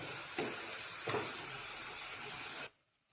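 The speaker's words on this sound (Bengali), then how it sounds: "ভালো করে মশলাটা কষাতে হবে মশলার কাঁচা গন্ধটা না যাওয়া পর্যন্ত খুব ভালোভাবে কষিয়ে নেব" A spice paste sautés in a pan for a pabda fish curry with mustard and poppy seeds, giving a steady close sizzle broken by two brief stirring scrapes, then suddenly cutting off.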